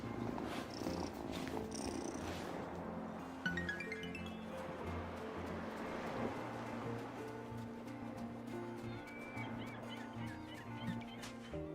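Cat purring in the video game Wylde Flowers as it is petted, a steady low rumble under continuous background game music, with bird-like calls mixed in.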